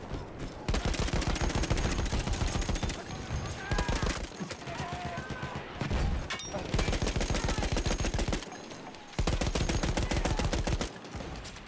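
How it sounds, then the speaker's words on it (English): Sustained machine gun fire from an enemy gunner in Battlefield 1's Oil of Empires operation on Xbox One, loud rapid bursts running almost continuously with a few short breaks, a voice talking over parts of it. "Enemy machine gun."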